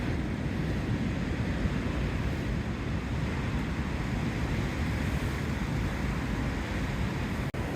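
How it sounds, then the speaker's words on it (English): Constant loud roar of strong storm wind blowing through trees around a tent, a dense rushing noise that never lets up. "So most of the wind is going over the top through the major trees"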